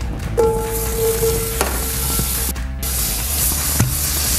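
Butter sizzles steadily in a hot pan while cooking for a pulled pork sandwich, a loud continuous frying hiss with a few clinks and stirring sounds, no voices.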